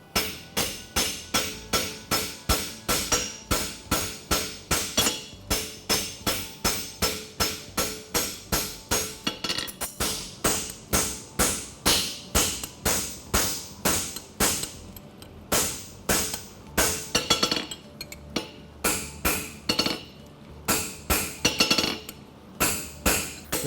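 A farrier's hammer strikes steadily on a fullered straight bar horseshoe, flattening it at a competition forge; dozens of sharp ringing metal blows come in a fast, even rhythm, close and loud, with brief pauses between runs.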